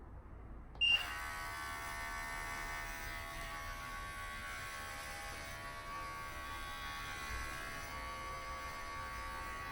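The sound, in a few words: electric razor cutting hair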